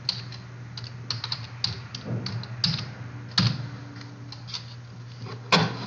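Keystrokes on a computer keyboard entering an admin password during a software installation, a run of scattered, quiet clicks and taps at close range with short pauses, no talking.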